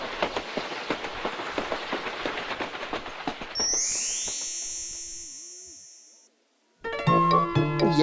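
A toy-like children's color train rolls along the track with a rapid rhythmic chugging and clacking, then a bright whistle and a falling tone, ending in a short gap before music begins.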